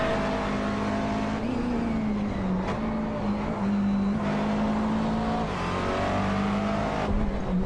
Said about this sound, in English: That V8 supercar sounds fantastic.